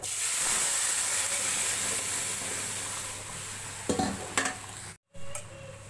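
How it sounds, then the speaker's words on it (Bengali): Moong dal tipped into a hot sizzling tempering of ginger, dry chilli and panch phoron, a strong frying hiss that fades as a few close spoon scrapes and stirs follow. "ভাজা হয়ে গেছে, এখন মুগ ডালটা সম্বার দিয়ে দিবে"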